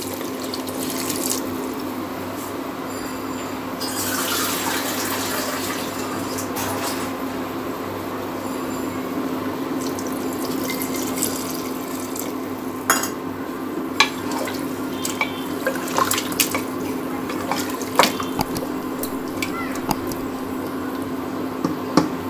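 Water or broth is poured steadily into a pot of beef, potato and pointed gourd curry, a continuous splashing stream up close, with a few clinks and stirring noises toward the end.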